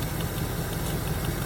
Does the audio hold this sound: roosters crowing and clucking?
no